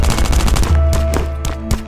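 Rapid SMG bursts ring out in the survival game Last Day Rules Survival, a quick string of loud, close automatic shots followed by a few sparser single cracks.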